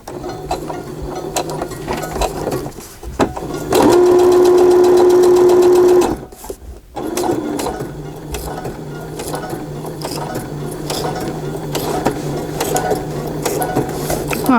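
A sewing machine stitches through a paper journal, its steady mechanical whirring running in bursts with a brief pause and a louder steady stretch midway, close and alone.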